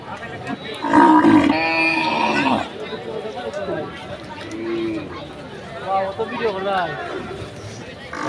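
Cattle belonging to local farmers low and moo at a busy cattle market on a sandy field in Sunamganj; a loud, close moo comes early, with softer calls later under steady crowd chatter and talking.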